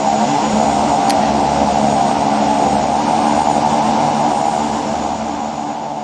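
A de Havilland Twin Otter's propeller engines drone steadily and loudly in the X-Plane 11 flight simulator, with a constant roar that holds for the whole stretch.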